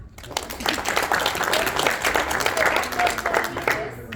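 A crowd at a community meeting claps in a dense, steady burst of applause that fades toward the end, with some voices mixed in.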